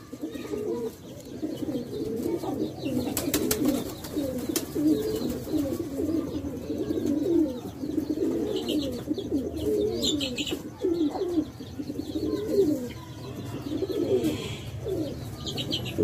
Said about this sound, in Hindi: मोतियां वाला कबूतर जी